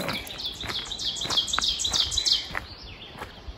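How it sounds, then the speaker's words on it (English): Birds sing near a frozen waterfall in winter, a run of quick, high chirps and trills repeating at close range, with no voices heard. "listen to those birds"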